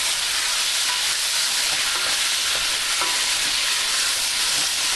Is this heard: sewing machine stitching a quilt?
no